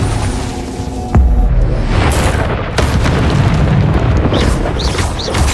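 A Confringo fire-blast spell explodes in Hogwarts Legacy, a sudden loud boom at about one second followed by rumbling, crackling bursts and magical whooshes over a dense, continuous game soundscape.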